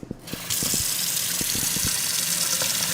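Water from Plaquemines Parish pipes suddenly gushes after a booster pump starts, a few knocks giving way to a loud, steady rushing flow.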